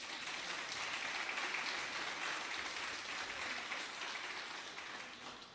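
A church congregation applauds, a dense, even wash of many hands clapping at a moderate distance that holds steady for several seconds and then slowly tapers off.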